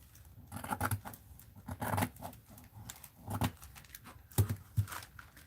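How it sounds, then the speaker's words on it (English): Scissors cut a piece of paper for an art journal, making several close, irregular crunching snips and rustling scrapes in uneven bursts, with quiet pauses in between. "We'll cut this part off."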